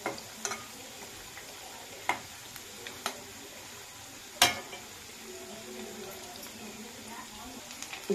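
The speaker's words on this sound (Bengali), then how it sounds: "এটাকে ভালো করে নাড়িয়ে দিলাম, একটু লাল লাল করে ভেজে নেব" Mango fritters frying in a pan of oil while being stirred: a soft, low sizzle broken by a few sharp clinks and scrapes of the utensil against the pan.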